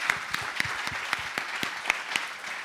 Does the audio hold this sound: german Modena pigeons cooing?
no